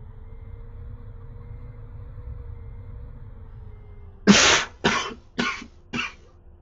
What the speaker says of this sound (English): Just had to cough by accident.